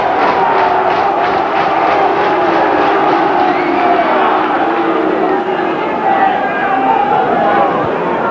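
A rugby stadium crowd at a 1995 Gloucester versus Northern Transvaal match erupts in a sustained, loud roar of shouting and jeering after a headbutt, with a commentator's voice running over it.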